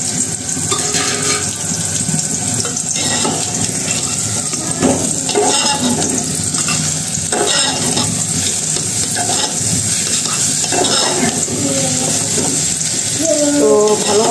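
Rice stirred in a pan with turmeric, salt and cumin powder gives a loud, continuous close sizzle under steady scraping and rustling strokes of the stirring.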